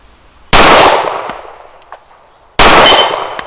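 Two loud, close S&W M&P Performance Center 9mm pistol shots fired at an outdoor range, each a sharp crack followed by a ringing steel-target clang that trails off, spaced about two seconds apart.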